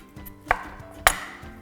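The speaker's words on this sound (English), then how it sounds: "pressing back against that breastbone. And again, run your knife cleanly through." A knife cuts through a whole chicken along the breastbone, giving two firm, close knocks against a board over a faint background hum.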